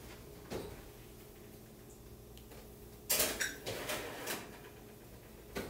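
Metal pans clunk and clatter as they are slid into a hot oven, a few sharp knocks and a brief metallic rattle standing out over a quiet kitchen background.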